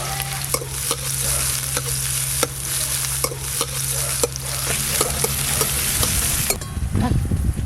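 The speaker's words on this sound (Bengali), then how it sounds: "পেঁয়াজ আর রসুন ভালো করে ভাজা হয়ে গেছে" Chopped onion and garlic fry in mustard oil with dried red chillies in a pan, giving a constant close sizzle broken by regular sharp scrapes and knocks of a spatula stirring, with no talk.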